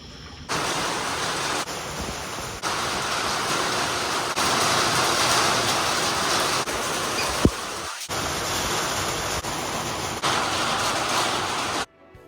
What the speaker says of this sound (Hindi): आज ना बारिश शुरू हो गई है बहुत तेज़ से